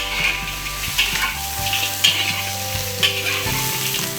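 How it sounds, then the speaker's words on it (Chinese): Duck meat stir-frying in a little oil in a wok for Sichuan tender-ginger duck, with a steady close sizzle and regular clanks of a spatula scraping and tossing the pieces, no talking. "油先少一点，先把鸭肉煸香哈"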